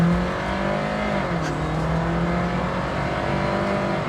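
A 2023 Jeep Wrangler Rubicon 4xe plug-in hybrid drives on-road with a steady low engine drone and road rumble, engine pitch shifting slightly as it cruises, heard from inside at close range.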